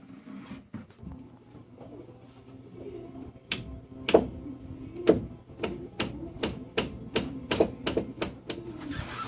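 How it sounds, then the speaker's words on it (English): A small hammer taps a wedge into place on a home-built carport's wooden rafter framing. The sharp, distinct knocks come one by one and then more quickly, with faint cooing birds in the background. "let's go down and get a little hammer and tap that in"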